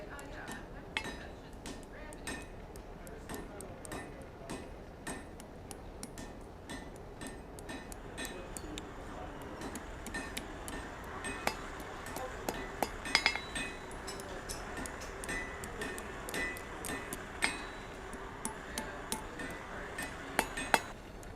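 Forged steel scroll for an Easter egg cup being rolled up with scrolling tongs, producing a steady stream of light metallic ticks and clinks with occasional sharper taps, under intermittent talk.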